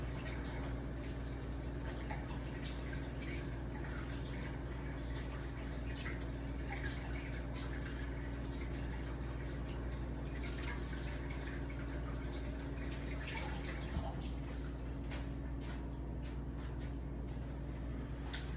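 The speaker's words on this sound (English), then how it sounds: "Wash my hands, y'all. Soap and water," Hands are washed with soap under running water, a steady quiet stream from a tap with faint drips and splashes throughout, under a constant low hum.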